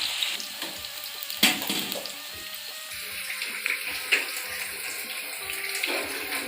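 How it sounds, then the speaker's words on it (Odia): Onions frying in hot oil until golden brown, a steady hiss and sizzle throughout with occasional louder crackles and stirring knocks. "ପିଆଜକୁ ଟିକେ ଗୋଲ୍ଡେନ୍ ବ୍ରାଉନ୍ ହେବା ଯାଏ ଫ୍ରାଏ କରିବାକୁ ପଡ଼ିବ।"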